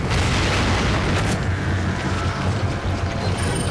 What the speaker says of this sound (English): Lil J getting blown up by a grenade there.